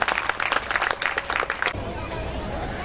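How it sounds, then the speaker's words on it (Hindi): Loud applause from a Hindi kavi sammelan audience at a Sharadotsav evening, dense clapping for under two seconds that stops abruptly, leaving a quiet room hum. "जोरदार तालियां"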